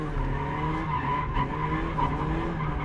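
A Mazda MX-5 Miata drifting through an infield section, its engine roaring loud and steady with clutch kicks while the tires skid and squeal continuously, close up and without talk.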